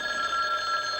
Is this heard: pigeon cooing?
no